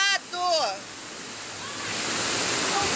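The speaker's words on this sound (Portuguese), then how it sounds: "Olha os carros sendo arrastados!" Rushing floodwater drags cars along a flooded street, a continuous loud roar of churning water, with people's excited voices calling out over it near the start and fainter ones later.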